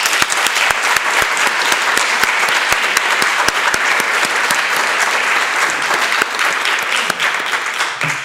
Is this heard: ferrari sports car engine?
no